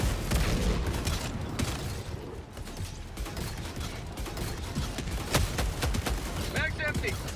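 Sentry turret firing in Helldivers 2, rapid rattling bursts with mechanical clanks amid loud battlefield noise, with a voice talking over the action.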